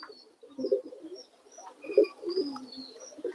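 Soft, low pigeon coos come in several short bursts, with a few faint chirps from other birds scattered above them in a quiet setting.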